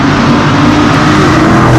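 Dodge Hellcat engine revving hard up close while racing a Procharged 5.0, a loud continuous roar with rising harmonics and no one speaking.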